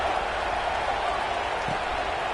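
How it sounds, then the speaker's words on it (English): Dense, steady stadium crowd roar in an NCAA college football video game, App State against Notre Dame, a continuous wash of cheering noise with faint play-by-play commentary underneath. "this crowd is buzzing after that last score"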